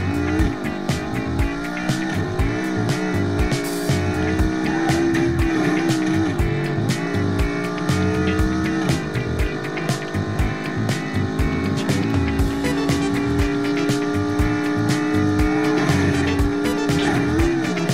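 Car engine droning and revving steadily in BeamNG.drive, with tire squeal and skidding layered throughout, loud and continuous with no talking.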